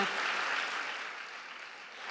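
A congregation at a women's fellowship church conference claps, a dense, steady wash of hands that fades slightly toward the end, with no voices over it.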